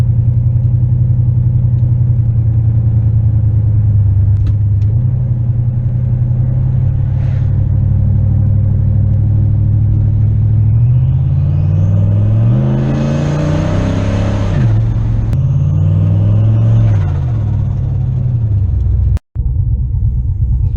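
A warmed-up turbocharged car engine idles with a steady low rumble and throb, close and continuous, with a brief swelling whir partway through before settling back to idle.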